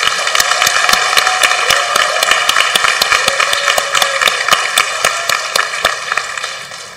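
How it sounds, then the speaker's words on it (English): A small number of people clap at a school graduation ceremony for the Class of 2022 in Jeju, sharp and distinct claps in a loosely steady rhythm that continue for several seconds and thin out toward the end. "Let's give a big round of applause for these students."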